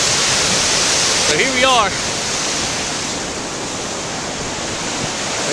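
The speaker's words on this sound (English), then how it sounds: "This is the most intense part of the rapids right here." Class 5 whitewater rapids roar through Muddy Creek Gorge, a loud, steady broadband rush that fills the whole clip, with a voice speaking briefly over it near the start.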